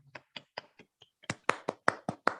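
Small group clapping for a public speaking championship performance, starting as a few sparse, separate claps and quickly building into steady, quicker applause, close and without any voices.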